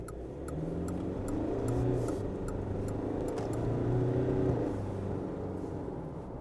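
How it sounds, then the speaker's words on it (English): Mitsubishi Triton GLS cab chassis ute with a stainless steel tray, engine accelerating from inside the cabin, a steady mid-pitched drone rising and swelling through the gears, moderately quiet with no talking. "So what's the Triton like acceleration wise?"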